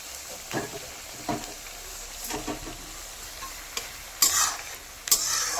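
Ginger-garlic paste frying in a pan, stirred in short scraping bursts over a low steady sizzle, with a few sharper clatters near the end.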